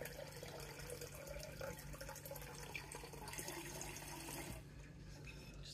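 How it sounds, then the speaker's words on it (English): Water poured into a pot while cooking noodles, a steady running splash heard close up that continues for several seconds before suddenly dropping off near the end. "Just pour some more water in."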